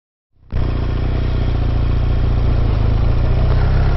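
A BMW motorcycle fires up and pulls away, its engine note rising abruptly from silence to a loud, close, steady roar that holds to the end.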